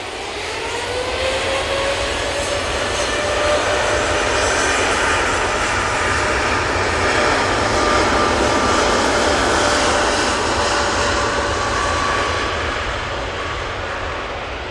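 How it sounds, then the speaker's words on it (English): A TUI Boeing 787-8 Dreamliner takes off from Manchester Airport, bound for Palma de Mallorca, with a loud, sustained jet engine roar that swells and slowly fades across the whole stretch, with no talk over it. "And there goes that beautiful TUI Dreamliner. Off to Palma de Mallorca"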